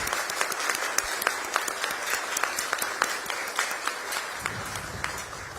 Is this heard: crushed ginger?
no